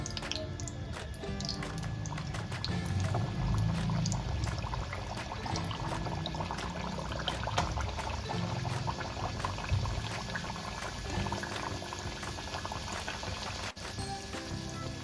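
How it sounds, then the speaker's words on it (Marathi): Puris deep-frying in a pan of hot oil, a steady close bubbling and hissing that rolls on without a break and has no voices over it. "आता आपण तेल तापलंय, पुरी तळून घेऊया."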